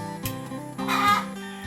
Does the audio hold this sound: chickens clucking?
yes